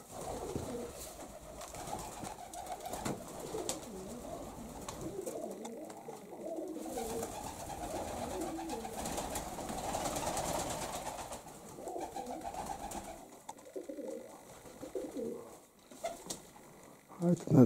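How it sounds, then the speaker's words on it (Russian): Pigeons coo in low, rolling murmurs that continue steadily, several birds together, with fluttering and shuffling sounds mixed in. "Вот они, голуби мои."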